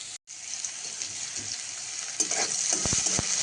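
Onion tempering fries in hot oil in a wok, a steady crackling sizzle after a brief cut, with sharp spatula clanks on the metal toward the end.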